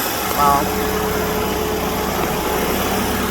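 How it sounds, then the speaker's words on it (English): A car's AC compressor keeps running without cycling off, a steady, even mechanical engine hum and vibration close by, with a faint brief tone near the start and a voice talking over it. "The compressor is still turning on. It's still on. It's not shutting off."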